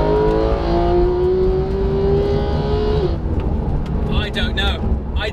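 A Porsche 991 GT3 engine revs up high toward 9,000 RPM in a long rising wail, then drops off as the throttle closes, with a brief voice reacting near the end.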